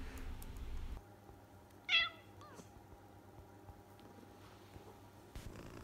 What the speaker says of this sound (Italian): La gatta nera sarà sempre lì al mio fianco, a miagolare senza un apparente motivo.